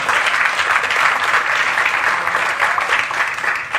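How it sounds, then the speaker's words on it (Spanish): A church congregation applauds for Christ, a dense sustained clapping from many hands that stays loud and even for a few seconds before tapering slightly, with no speech over it. "den un aplauso a Cristo"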